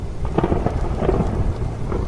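A heavy thunderstorm: dense, constant rain mixed with deep rumbling thunder. The sound is close and full, with no voices.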